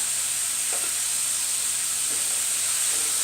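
Ground beef sears in a hot pan for Texas hot chili sauce, a steady, even sizzling hiss close up with a few faint stirring scrapes, no voices.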